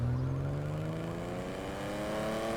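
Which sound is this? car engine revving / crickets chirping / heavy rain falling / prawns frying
car engine revving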